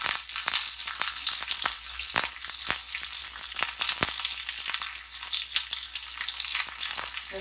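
Curry leaves and coriander sizzle steadily and loudly in hot tempering oil for a pumpkin raita, crackling throughout with sharp pops and no voices.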